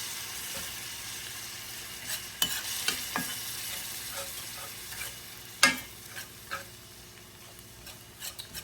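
Ground turkey fries in a pan with a constant soft sizzle, punctuated by scattered spatula scrapes and taps, some louder than others.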